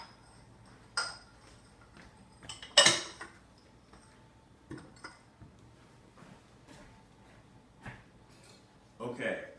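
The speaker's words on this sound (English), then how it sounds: "Let me put these dishes here in the sink." Dishes are set down in a home kitchen sink during brownie baking: a few scattered clinks and clatters, one sharper crash, with quiet moments between them.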